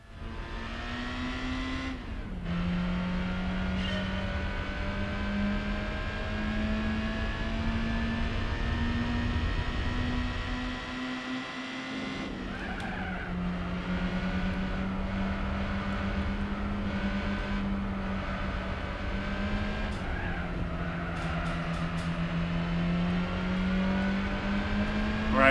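Racing car engines in Gran Turismo 4, a steady droning whine held at high revs that dips and climbs again with gear shifts and a brief lift around the middle, loud and continuous with no speech.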